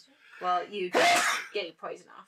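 One sharp, loud sneeze bursts out in the middle of casual talk during a tabletop board game session, with voices speaking just before and right after it.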